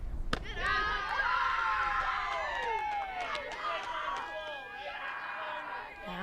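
Teammates cheer from the dugout at a high school softball game between Spring Lake Park and Blaine, a sustained stretch of overlapping voices and shouts at steady loudness for several seconds.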